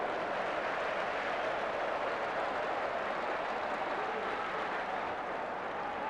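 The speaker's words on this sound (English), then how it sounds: "the Everton fans have got something to cheer about" Everton football fans cheer at an FA Cup match, producing a dense, continuous crowd roar that fills the whole stretch at a steady level, far and broad, with no distinct voices standing out.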